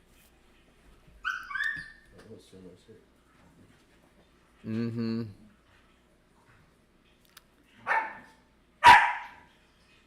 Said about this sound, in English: Oh my god, these dogs. they literally have been quiet the last 3 hours.